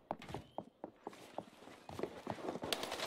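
An enemy runs up steps in a video game, quick, evenly spaced thumping footfalls that are faint but distinct and keep a steady running rhythm throughout.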